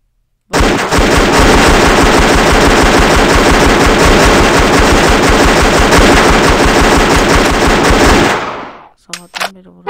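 Sustained automatic gunfire in CrimeLife 3, a loud, rapid, unbroken burst of shots lasting about eight seconds before cutting off abruptly, followed by a few brief scattered noises.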